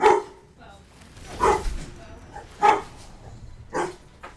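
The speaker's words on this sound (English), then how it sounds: "Obviously the dog is upset about it." A dog gives a few loud, sharp barks spaced about a second apart, upset and close by, with quieter whimpery sounds between them.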